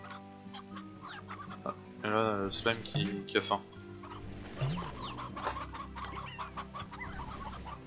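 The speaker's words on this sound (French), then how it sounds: "Des poules rocheuses." Rock chickens in the video game Slime Rancher cluck in short, repeated bursts against steady game music, while someone talks over them.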